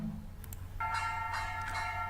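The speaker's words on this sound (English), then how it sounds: "Bell sound," A bell rings with a bright, sustained metallic tone, struck a few times in quick succession over a low background hum.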